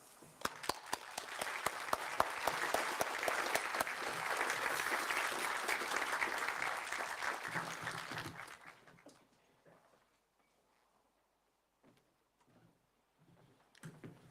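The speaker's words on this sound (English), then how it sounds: "Could I invite all new graduates to join me in this vote of thanks by applauding" New graduates applaud together at a university graduation ceremony for the Faculty of Humanities, Arts, Social Sciences and Education. The clapping is loud and sustained for about eight seconds, then fades into near silence with a few faint sounds.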